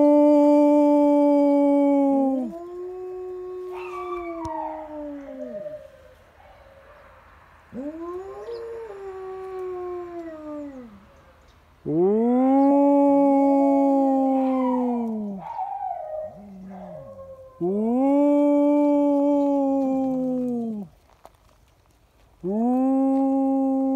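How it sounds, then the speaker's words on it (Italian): Dogs howl in long, wavering, rising-and-falling cries, answering a wolf howl. Several loud, close howl bouts are separated by short pauses, with some overlapping and quieter howls in between. "voglio farvi vedere come anche i cani ululano quando sentono l'urlato del lupo"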